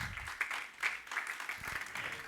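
A church congregation claps hands in praise to the Lord, a soft, uneven patter of palms at moderate distance, steady through the short stretch with faint voices underneath.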